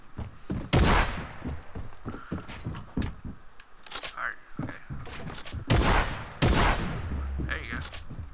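Fortnite gunfire comes as sharp, close bursts and single shots, spread irregularly among thuds from building, with talk in between.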